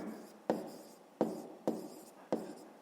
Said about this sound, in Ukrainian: Пишемо в дужках чого справа.